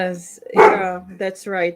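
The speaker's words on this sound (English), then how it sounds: "That's my dog barking." A pet dog barks once or twice at home, close by, mixed in with a voice talking over it.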